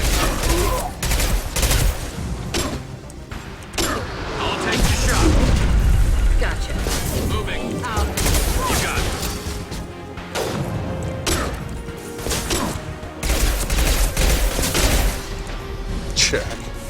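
Gunfire and explosive impacts from Mass Effect 2 combat: dense, overlapping shots, crashes and booms rolling continuously, loud and busy, with voices talking in between.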